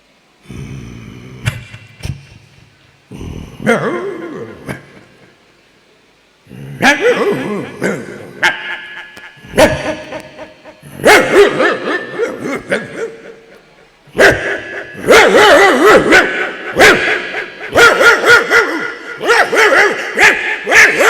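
A dog barks in repeated short bursts with brief pauses between them, mixing sharp barks with higher yips and a whimpering tone, fairly close and loud.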